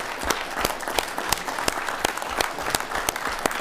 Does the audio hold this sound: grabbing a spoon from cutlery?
no